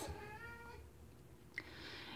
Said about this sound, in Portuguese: meu filho miando pra variar, brigando com os bichinhos da casa